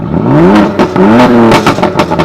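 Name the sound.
modified sports car exhaust revving, drive-by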